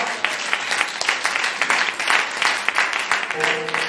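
A church congregation applauds and cheers, with dense, continuous clapping from a crowd in a reverberant hall, fairly loud and sustained, and a faint sustained tone toward the end.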